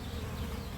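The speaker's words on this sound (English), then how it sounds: "These are the bees outside. This is the closest I've ever got to this many amount of bees." A large crowd of bees hums in a dense, continuous buzz right beside the microphone outside a bird feeder shop. The drone is steady and fairly loud, with no voices over it.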